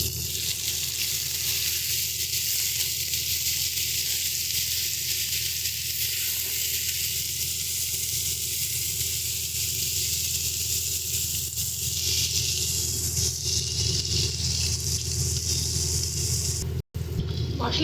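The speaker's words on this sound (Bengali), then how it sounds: "সমস্ত কিছু দিয়ে এবার এটাকে আমরা ভালো করে কষিয়ে নেব।" Ground spices with cumin and salt frying in a pan for a bitter gourd dish with mustard and poppy seed, a continuous loud sizzle and hiss with occasional stirring, no talking.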